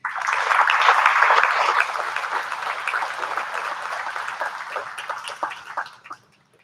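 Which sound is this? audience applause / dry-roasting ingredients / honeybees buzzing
audience applause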